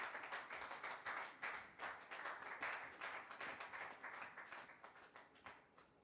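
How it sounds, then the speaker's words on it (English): An audience applauds a team on stage at an event, steady continuous clapping from many hands at moderate distance with no talk over it. "one more time, a huge round of applause for this whole team who have been the pillars in setting up Project SMA Sapiens"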